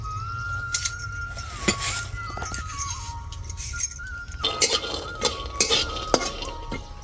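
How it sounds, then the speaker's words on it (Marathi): Peanuts roast in an iron kadhai, stirred with a metal spatula that gives close, scattered clinks and scrapes against the wok over a steady background, with no one speaking. "कढाई थोडी आता शेंगदाणे का भाजून घेते"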